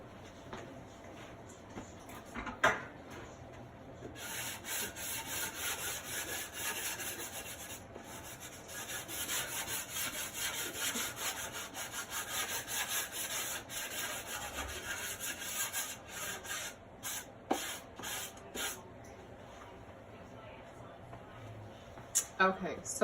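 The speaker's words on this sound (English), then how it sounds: "Okay, so I just lightly sanded it." Steady rasping scrape of a sanding disc rubbing over wood in long continuous passes, with a few clicks and knocks between strokes.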